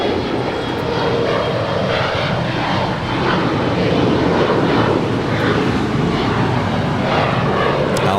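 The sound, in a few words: airplane departing from LAX runway 24 left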